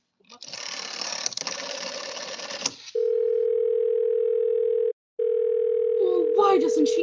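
A steady telephone dial tone on a faulty line, loud and continuous with one short dropout, follows a stretch of mechanical clatter and ends under a brief voice.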